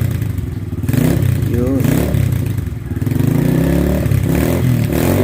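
Motorcycle engine idling after a cold start while being warmed up, a steady low rumble with a few revs, under someone talking.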